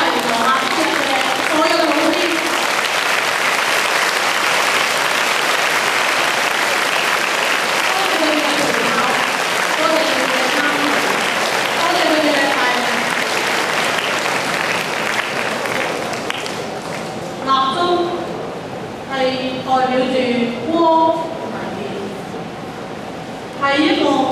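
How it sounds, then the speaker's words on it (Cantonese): Audience applause fills a school farewell ceremony, sustained dense clapping for about fifteen seconds before thinning into scattered claps while a voice speaks over the tail. "請再次掌聲，多謝曾經陪你一行一齊"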